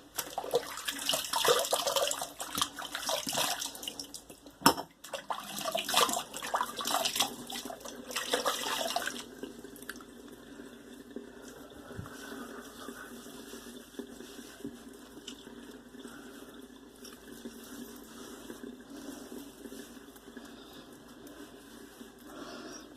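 Warm running water pours steadily and loudly for several seconds with a brief clatter, then eases to a quieter, continuous trickle.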